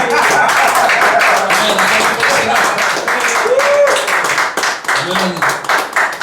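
A church congregation claps and cheers for the Lord during a worship service, a loud, steady rhythm of many hands with voices and shouts mixed in close by.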